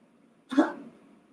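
A person gives one short, sharp cough in an otherwise quiet room, a single close burst that fades quickly.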